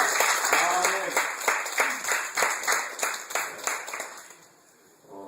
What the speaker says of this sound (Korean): 감사와 영광의 박수 한번 올려드립니다.